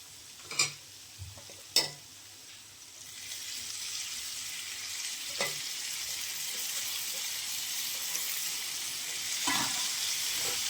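Chicken fry bagara rice stirred in a pot with chopped coriander mixed in: a few sharp spoon scrapes and clinks against the pot over a steady low sizzle, close by.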